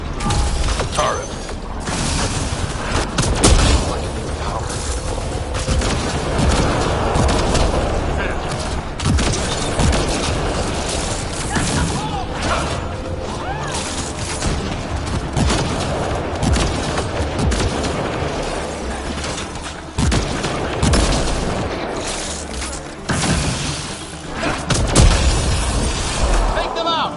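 Turret gunfire in Mass Effect: a sustained, dense barrage of mechanical automatic fire and booming impacts churning on throughout, with battle noise and voices mixed in.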